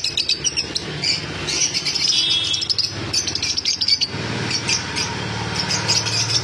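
Lovebirds and white cockatiels in a crowded bird shop keep up a dense, busy chorus of shrill chirps and tweets, close and steady, with overlapping calls and quick repeated bursts throughout.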